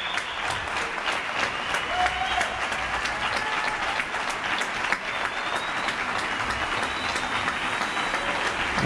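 Widespread balcony applause in Getxo for health workers, a continuous, distant wash of clapping from many neighbours echoing between buildings, with faint voices and a high whistle in the background.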